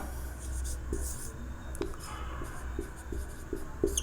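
Pen or chalk writing out an example by hand on a board, a series of short scratchy strokes repeating every half second or so, close and fairly clear over a low steady room hum.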